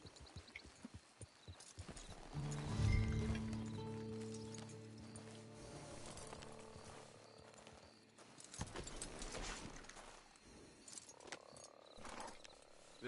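Horse hooves clop in the Red Dead Online video game as a rider approaches a camp hitching post, a loud burst of hoofbeats and tack noise over a low rumble, fading into quieter ambience with later movement.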